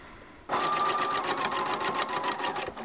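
A sewing machine stitches along the folded edge of bias tape on a ruffle diaper cover, starting abruptly after a quiet moment and running steadily with a fast, even mechanical rhythm, close and clear with no talking.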